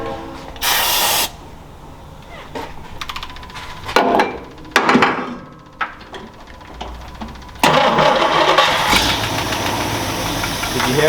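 A Jeep Wrangler engine cranks and sputters to life with bursts of hissing brake-cleaner spray, then settles into a rough, steady idle with a small tick at startup.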